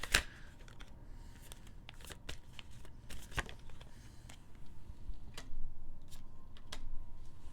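Tarot cards shuffled and handled in a reading, giving a run of sharp ticking snaps and soft riffling flutters at close range, quiet with no talk.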